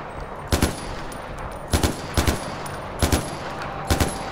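Automatic rifle fire aimed at an Asian rhino while hunting in Far Cry 4, heard as four sharp bursts of two or three shots each, loud and close, spaced about a second apart, with no talking between them.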